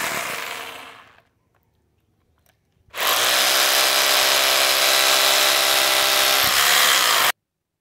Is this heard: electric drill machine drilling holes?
yes